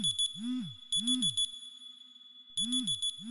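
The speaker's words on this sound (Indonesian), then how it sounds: "Sial, alarm HP bunyi lagi." A mobile phone alarm rings in repeating bursts of electronic beeps, each with a rising and falling swoop, clear and close, with short gaps between the bursts.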